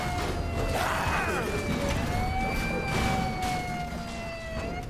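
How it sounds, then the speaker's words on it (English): A wailing siren in a zombie video game rises and falls in long sweeping tones, loud and continuous over a noisy game background, with no speech. "I need to stop the siren."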